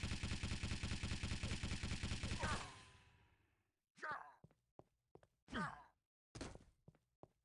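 Machine gun in Quake 3 DeFRaG, a rapid, steady stream of loud buzzing shots that stops abruptly, followed by a few scattered game sound effects.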